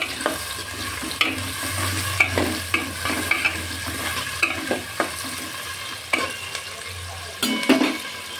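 Chopped onion frying in a pan with onion paste for a spicy curry gives a steady, close sizzle, broken by repeated scraping stirs and light clatter.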